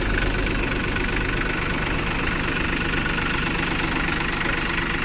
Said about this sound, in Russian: 3 цилиндра, мотор у нас здесь дизельный